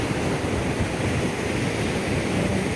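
Rough sea waves at a beach in Pangasinan roar as a constant, loud wash of surf with wind, with no talk.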